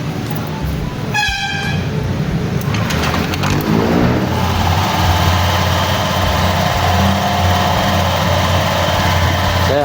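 A Honda Click 125 scooter engine runs with its CVT cover off, a steady, close, continuous drone with a low hum throughout and a brief higher tonal whine near the start.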